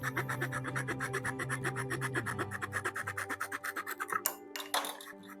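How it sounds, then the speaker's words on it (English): Rapid, regular back-and-forth rasping of a fine saw cutting through wood, close up, continuing steadily for several seconds before a few final strokes. "Take your flush trim saw."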